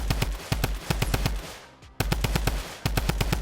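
Rapid video-game gunfire in sharp, evenly spaced bursts of shots, with a brief gap midway before firing resumes, loud and close with no talk.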